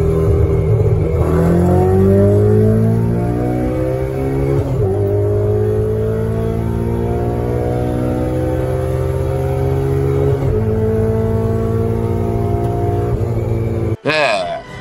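A Toyota 86 fitted with a swapped Honda K24A2 engine revs hard and climbs through the gears in repeated rising surges, loud and close, with a sharp cut at the end.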